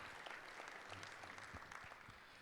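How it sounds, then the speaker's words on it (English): Audience applause at the close of Chad Hymas's keynote at Affiliate Summit West 2015, a steady dense wash of clapping from a large crowd, heard at moderate distance with no talk over it. "Big round of applause here for Chad Hymas"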